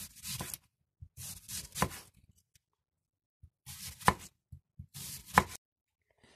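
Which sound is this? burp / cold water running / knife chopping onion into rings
knife chopping onion into rings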